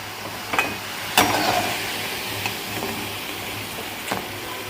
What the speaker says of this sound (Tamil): இப்போ அப்படியே நல்லா கிளறி விடுங்க. இது போல் கொஞ்சம் மீடியம் ஃப்ளேமில் வச்சுக்கோங்க.